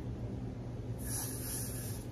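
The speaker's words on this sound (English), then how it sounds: "I'm gonna spray some Got2b on the edges." Got2b hair spray hissing onto the hair edges in a short burst that starts about halfway through, close and steady over a low background rumble.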